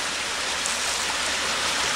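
Water pours steadily through a partly closed waste culvert on the Delaware Canal, a dense, even rushing wash heard close and alone, with no break.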